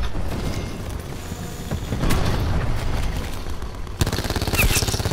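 In a Call of Duty Black Ops 4 free-for-all match, a cluster grenade sets off a dense string of rapid booms and crackling bursts, ending in a sharp sequence of close pops.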